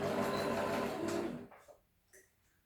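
A sewing machine runs a steady close whir while stitching a seam along a dress neckline, then stops after about a second and a half, leaving a few faint clicks.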